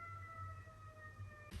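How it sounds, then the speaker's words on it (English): Emergency sirens wail outside during a kitchen session making green smoothies, a steady faint tone that drones on with a low hum beneath it and no talking. "It sounds like sirens are going."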